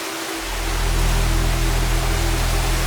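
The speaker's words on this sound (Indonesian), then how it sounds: "Di tengah perjalanan ada air terjun yang menghalangi" A steady, loud rush of a forest waterfall fills the clip, a dense broadband roar that swells in after a brief quiet start and holds constant.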